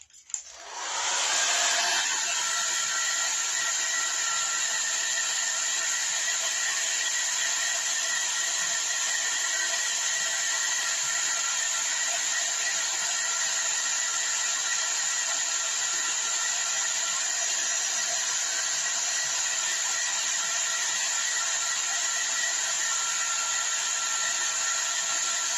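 A hair dryer drying paint on a small dollar-store craft switches on and runs steadily, a loud constant whoosh and whine that holds unbroken for the whole stretch with no talking.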